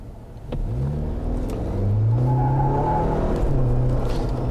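A Jeep Wrangler JL fitted with a throttle controller pulls away from a stop, its engine note rising steadily in pitch and loudness as it accelerates, heard close from inside the cabin with no talking.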